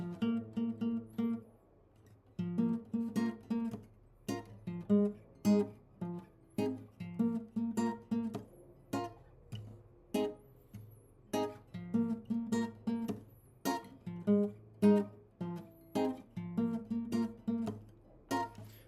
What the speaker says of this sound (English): So this bass line plays twice, once at the beginning, and then once again.